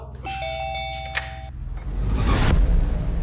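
A doorbell rings indoors with a clear sustained ding-dong tone for about a second, followed by a louder rumbling noise.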